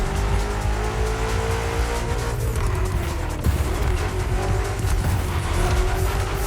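BMW M CS engine drones steadily in the racing game The Crew Motorfest, a loud sustained exhaust note with rising and falling pitch and light tire noise underneath.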